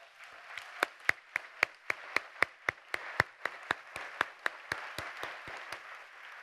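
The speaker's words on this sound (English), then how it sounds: "Can we give these guys a round of applause?" A few scattered people clap for presenters and reviewers at a large education technology conference, sparse, distinct claps at a steady pace, fairly faint and distant.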